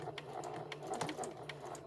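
A sewing machine back stitches on a memory bear, running in a quick, even run of rapid needle strokes, close and fairly quiet with no talking.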